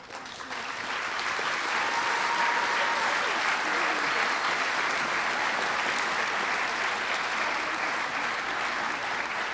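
Sustained audience applause fills a science fair awards ceremony, steady dense clapping that swells in the first two seconds and holds at full volume to the end, with no talk over it.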